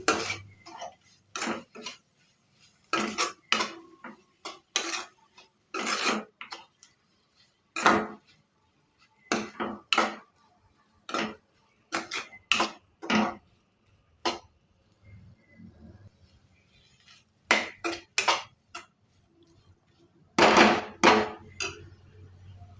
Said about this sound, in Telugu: ఇది ఒకసారి బాగా కలుపుకోవాలి.